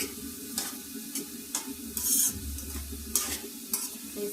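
Ridge gourd pieces fry with green chillies in a pan, giving a soft continuous sizzle broken by several brisk stirring scrapes, heard close with no voices.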